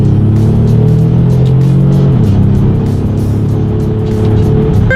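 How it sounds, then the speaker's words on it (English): A 2019 Ford Explorer with a twin-turbo V6 accelerating under paddle shifts: a loud engine roar rises in pitch, falls sharply at an upshift midway, then climbs again, heard steadily from close by. "So let's test out the paddle shifters and see how quickly they react for us."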